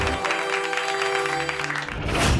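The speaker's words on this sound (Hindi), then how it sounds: "जोरदार तालियां हो जाए" Applause from a studio audience at a television couples competition show, a steady dense clatter of clapping that holds for about two seconds, then swells briefly louder at the end.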